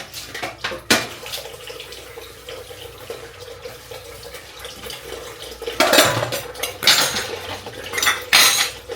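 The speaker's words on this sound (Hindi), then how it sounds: "तो चलो जी, मैं धो लेती हूँ बर्तन।" Dishes being washed at a sink, with cutlery and metal pots clattering and knocking while water runs, close and busy with louder clusters of clanks near the end.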